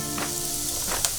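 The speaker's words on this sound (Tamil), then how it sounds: "இப்போ வெள்ளைப்பூடை நல்லா வதக்கிடணும்." Garlic sizzles and crackles steadily in hot oil with softened onions, with a brief stir or scrape near the end; close and continuous.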